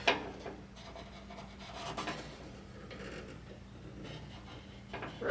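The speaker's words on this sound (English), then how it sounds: "Need to sand that down just a little bit." Hand sanding on a rust repair patch of a frame-swapped truck makes a steady, fairly quiet rasping rub, close by, running in continuous strokes with a few slightly louder scrapes.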